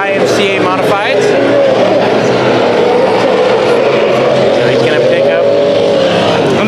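IMCA Modified race cars roar around a dirt oval during a heat race at Arizona Speedway, their engines a loud continuous drone with rising and falling pitch as cars pass, heard beneath an announcer's commentary.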